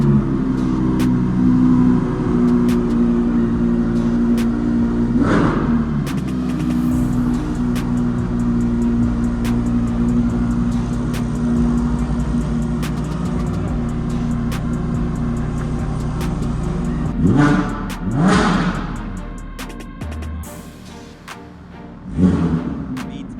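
A McLaren 720S engine runs loud and steady with sharp revs rising at intervals, its throttle blips standing out near the end of the stretch.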